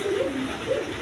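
A big feather-footed pigeon coos softly nearby, two low rolling calls in quick succession over light background noise.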